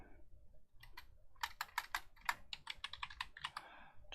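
Fast typing on a computer keyboard, a quiet close run of crisp key clicks in uneven bursts after a brief pause.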